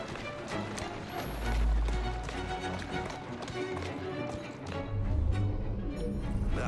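Rhythmic clip-clop of horse hooves at a steady trot in Assassin's Creed Syndicate, with low rumbling game ambience underneath.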